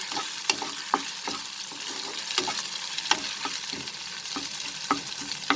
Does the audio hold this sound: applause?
no